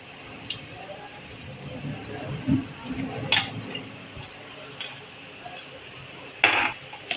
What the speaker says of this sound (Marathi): हे आपण चांगलं परतून घेणार आहोत